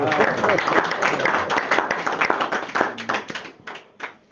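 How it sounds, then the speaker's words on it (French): A church congregation in Cameroon claps together in praise, with dense, lively applause and scattered voices mixed in. It stays loud for several seconds and then thins out toward the end. "Acclamez pour le Seigneur."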